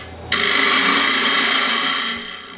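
A lathe tool cuts into a spinning wooden lidded box, starting abruptly into a loud, steady scraping whir with a tonal hum, sustained for about two seconds before easing off.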